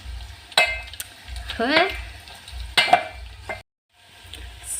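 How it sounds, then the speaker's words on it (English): Garlic, ginger and onions frying in a pan while a spoon stirs and scrapes, with a steady low sizzle, intermittent clinks of utensil on metal and a brief word spoken, then a short silence. "So you let the garlic and ginger cook for a while and the onions to cook more"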